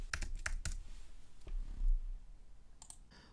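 Typing on a computer keyboard while naming a new page in Canvas, heard as a few quick clusters of light clicking keystrokes with short pauses, fairly close and quiet, no talking.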